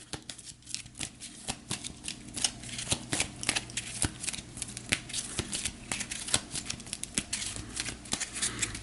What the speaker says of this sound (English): So we're going to go ahead and shuffle them up.